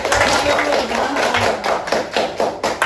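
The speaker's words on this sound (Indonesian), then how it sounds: "Tepuk tangan dulu untuk kelompok 2" A classroom of students applauds a student group, a dense patter of many hands clapping steadily for about three seconds, fairly loud and close, with some voices mixed in.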